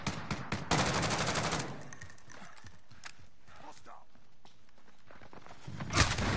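Sharp sniper shots crack through a Call of Duty Warzone match, a loud burst at the start and another sudden report near the end, with clattering footsteps and game noise in between.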